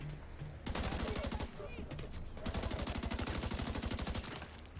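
Rapid automatic gunfire from a machine gun in The Division 2, loud sustained bursts with a short break partway through, alongside other game sounds.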